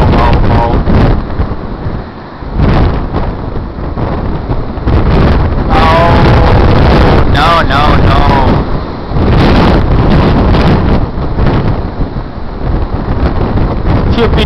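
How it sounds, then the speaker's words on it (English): Strong wind of about 100 km/h buffets a hexbeam antenna outdoors, loud continuous roaring microphone gusts with brief lulls and some creaking or whistling tones, a voice faintly heard amid the blast. "Stupid wind!"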